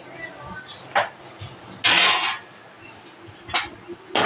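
Coriander and mint leaves stirred in a frying pan, a few sharp metal clinks of a spoon against the pan standing out over a quiet, lightly sizzling background, with one longer scraping burst in the middle.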